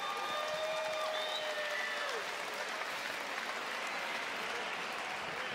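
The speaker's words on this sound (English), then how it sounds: "How about a big round of applause for both of these competitors?" A boxing arena crowd claps and cheers for both fighters after a three-round bout, a broad steady roar of applause with a few shrill whistles early on.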